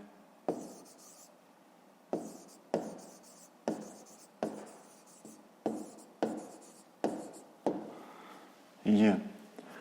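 Pen strokes scratch on paper while a math answer is written down, a series of short crisp taps and scrapes repeating roughly every half second, close and clear, ending in a longer rubbing stroke.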